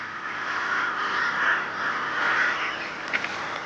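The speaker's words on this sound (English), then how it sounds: "These crows are not about to stay and pick a fight." Crows caw loudly and repeatedly in a wild mountain setting while a golden eagle is near, a dense overlapping chorus of harsh calls running throughout, with a few sharper close caws near the end.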